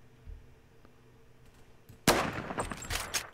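A gunshot in Roblox Phantom Forces, a single sharp loud crack after a quiet stretch, followed by a few scattered softer shots and clatter.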